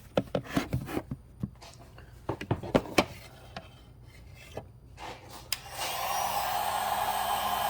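Handling on a Fiesta ST evap harness gives scattered rubbing and scraping clicks, then a heat gun starts blowing on the plastic as a steady, close airflow hiss that continues to the end.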